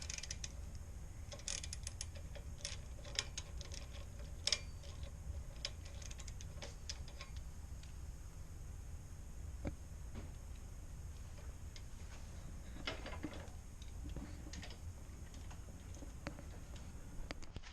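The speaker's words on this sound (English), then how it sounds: "tighten the handlebar." Handlebar being tightened during assembly of a Monster MEGA Moto 212cc mini bike, heard as faint scattered metallic ticks and clicks, mostly quiet and steady.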